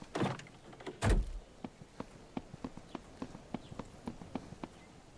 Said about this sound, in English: I thought I heard footsteps of somebody other than me.